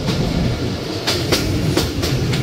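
A train rolls along the track in rainy weather on a route serving Rajshahi University station, with a steady low rumble and a few sharp rhythmic wheel clacks at joints, close and continuous, no voices.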